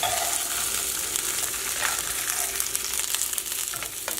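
A cod fillet sizzles in a hot pan right after being flipped, a dense, even frying hiss that holds steady up close with a few small pops.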